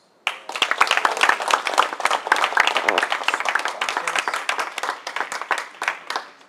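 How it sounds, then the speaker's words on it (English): Applause from a meetup audience at Google in Mountain View for the organizers and panel, starting suddenly, holding strong, then thinning into scattered separate claps toward the end. "And a big round of applause for our organizers."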